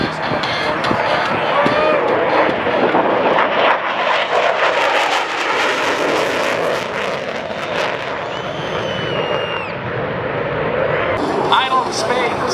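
At an airshow in Hillsboro, Oregon, a jet dumps raw fuel into its exhaust and ignites it, producing a continuous, loud, broadband roar that fills the whole stretch, with crowd noise and voices mixed in.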